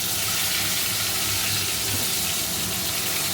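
A kitchen chimney exhaust hood runs during frying, producing a steady, loud, broad whoosh that holds unchanged throughout, with no talking.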